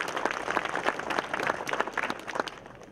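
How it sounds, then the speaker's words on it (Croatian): An audience applauds a choir at a novel launch event, steady dense clapping filling the room for the full stretch without pause. "Molim vas jedan aplauz za naš hor Bejat."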